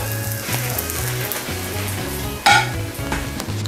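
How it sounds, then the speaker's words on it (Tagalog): Milkfish belly sizzles and crackles steadily in hot oil, with a sudden louder spatter partway through and a low rhythmic hum underneath. "At ayan po, na-prito na po natin ang ating bangus belly."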